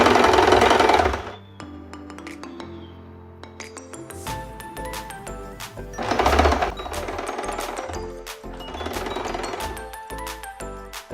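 Sewing machine stitching stacked fabric pieces into a blouse rope, its motor running in bursts with pauses in between, alongside light clinks of metal and some background music.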